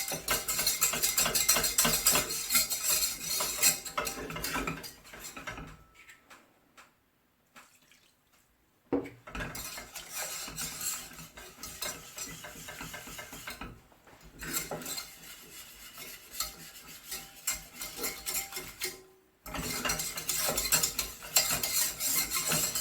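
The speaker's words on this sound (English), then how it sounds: "What I like to do at this stage is to use my whisk." A whisk works an asparagus soufflé mixture around a metal pan, with close scraping and clinking strokes in uneven bursts broken by a few short pauses.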